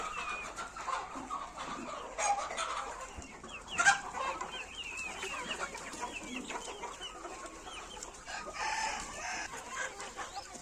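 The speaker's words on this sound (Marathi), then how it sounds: "आपल्याकडे सध्या पाचशे कोंबड्या आहेत आणि तीनशे लहान पिल्लं आहेत" A busy flock of desi chickens on a poultry farm clucking continuously at moderate distance, with a rooster crowing partway through over the steady farmyard chatter.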